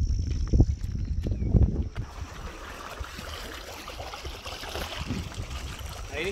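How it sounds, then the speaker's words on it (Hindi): Fast-flowing water in a full canal, a steady broadband rush heard close by, with heavier knocks and thumps in the first two seconds before the flow settles into an even roar. "पानी बहुत ज़्यादा, नहर फुल चल रही है।"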